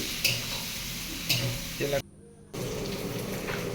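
Chopped onion and green chili fry in leftover fish-frying oil in a kadai, a loud, steady sizzle with occasional stirring clinks and a brief cut to near silence midway.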